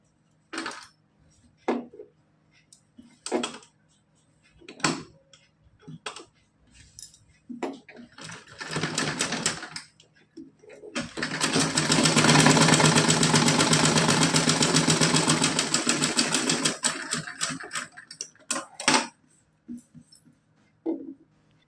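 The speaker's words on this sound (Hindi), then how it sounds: "अब इनके दोनों सिरे हम सिल देंगे।" A sewing machine stitches a small cotton frock-style dress for a Laddu Gopal idol. Short separate bursts of whirring give way to one long, loud continuous run of stitching, followed by a few more brief bursts.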